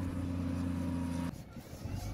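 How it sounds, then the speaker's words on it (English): A tipper truck works alongside an excavator filling a front yard with laterite, its engine giving a steady low droning hum that drops away abruptly partway through, leaving rougher rumbling. "we called in a tipper truck to work with the excavator in filling of the front yard"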